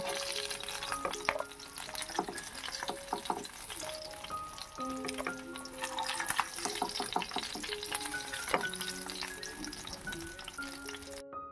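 Lightly fried catla fish in a pan of oil gives a moderate, continuous sizzle with crackles, while clinks of utensils and kitchen clatter sound close by. Nobody speaks.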